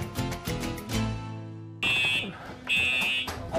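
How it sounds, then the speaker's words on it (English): Smoke alarm sounding in short, shrill, repeated beeps, coming after a stretch of low sustained tones and heard as two loud bursts. "And it's a smoke alarm."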